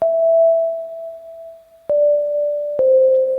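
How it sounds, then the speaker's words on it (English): Pure synthesized sine tone shaped into a crystal singing bowl in Ableton Live, a steady hum held for almost two seconds, then struck again twice with sharp attacks, each note ringing on evenly without any talk. "notice that sine wave sounds good"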